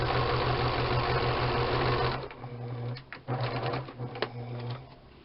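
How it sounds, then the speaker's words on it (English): A sewing machine stitches the side seams of a fabric bon bon bag, giving a fast, close mechanical whir that runs steadily, then breaks into short stop-start bursts. "I'm going to sew the side seams down, just from the cut"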